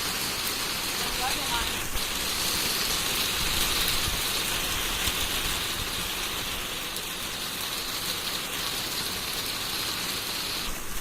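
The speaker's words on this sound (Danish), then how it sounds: "Først regner det og tordner det." Heavy rain pouring down during a violent thunderstorm with lightning, a steady, dense hiss of falling water that fills the whole stretch without a break.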